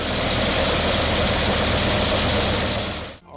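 A homemade mini harvester's tractor engine runs loud and close, a steady heavy diesel drone with constant low rumble that cuts off abruptly at the end.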